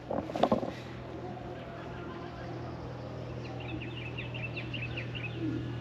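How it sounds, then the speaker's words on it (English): Birds chirp outdoors in Ghana, with quick high calls repeating in the background over a scenic rural plot of land, set against a steady low hum. "You hear the birds?"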